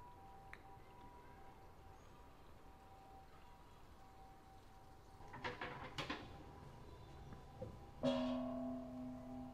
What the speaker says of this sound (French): c'est le bruit de la pièce qui tombe dans l'endroit où on jette les pièces avant de prier